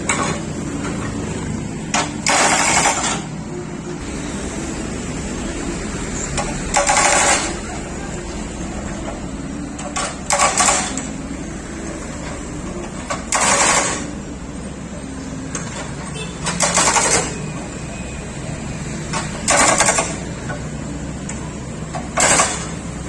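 A chisel strikes concrete in short repeated bursts to uncover a Telkom cable route, a few seconds apart. The bursts come over a steady background hum, close and loud.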